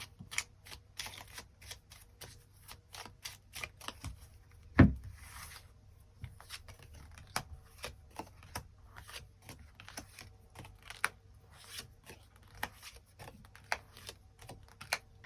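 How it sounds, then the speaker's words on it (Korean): Tarot cards are shuffled and drawn on a table, giving a long run of crisp clicks and light taps with one louder knock partway through, close and otherwise quiet. "그럼 5번 분들 추가 카드로 일별로 월요일부터 일요일까지 어떤 하루하루를 보내게 될지 추가 카드 뽑아보도록 하겠습니다"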